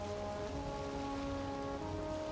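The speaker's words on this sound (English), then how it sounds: "I think it's the ocean biome that's rainy" Steady, hissing rain in the ocean biome of Valheim, a constant even patter with faint tonal hum beneath, moderately quiet and uninterrupted.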